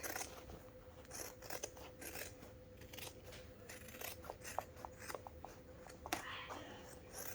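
Scissors snip steadily around machine embroidery on fabric for a lined zipper bag, a run of quiet close crisp cuts with rustling cloth and faint room noise.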